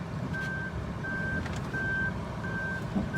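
A 2015 Suzuki Lapin backing up gives off a steady series of four evenly spaced reversing beeps, clear and moderately loud, over low road and engine rumble with no talk.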